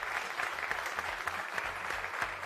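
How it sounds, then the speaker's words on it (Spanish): Studio audience applause on a television show, steady dense clapping from a crowd, loud and continuous throughout, with a music beat underneath. "Y ahora les quiero pedir un fuertísimo aplauso para despedir a Moré y a García."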